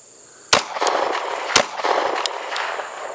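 Sig Sauer MK 25 pistol tapped and racked during a malfunction drill: two sharp, close metallic snaps about a second apart, followed by a few lighter clicks and a lingering rattling noise, with no talking.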